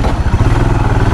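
A Royal Enfield Himalayan BS6 motorcycle being ridden, its engine giving a loud, close, steady low thrum with a continuous pulsing rumble and no talk over it.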